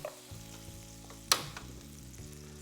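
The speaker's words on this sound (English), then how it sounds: "we are gonna toss in about 1 whole stick of unsalted butter" A whole stick of unsalted butter melts in a pan, with a low steady sizzle and a single sharp clack partway through, close up and without talking.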